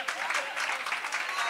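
A church congregation applauding, a steady, dense wash of clapping from a crowd filling the room without a break.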